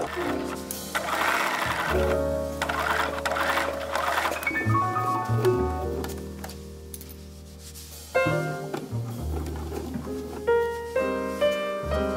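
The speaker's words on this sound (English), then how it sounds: "I'm stitching right over that basting line, and that helps me control the gathers and where the needle falls" A domestic sewing machine stitches over a basting line on gathered pajama fabric, running in loud steady whirring bursts with pitch changes as speed varies, pausing briefly midway before starting up again.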